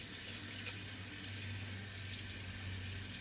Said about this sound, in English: Now I clean out my brush